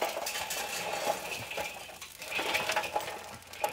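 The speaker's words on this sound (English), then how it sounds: "That means dumping the coals into these side baskets" Natural lump charcoal dumped into side baskets of a grill, a quiet scatter of clinks, crunches and rattling pieces in irregular bursts.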